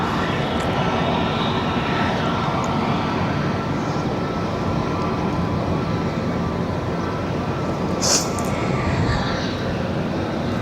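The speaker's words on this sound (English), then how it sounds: "back to Wizz Air A321neo that will be departing to Budapest shortly" A Wizz Air A321neo airliner departing Barcelona airport, a loud, steady broadband engine roar that holds throughout, with a brief sharper burst partway through.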